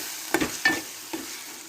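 A spoon stirs curry with fresh coriander in a pan on the stove, with a few soft scraping strokes over a gentle continuous sizzle.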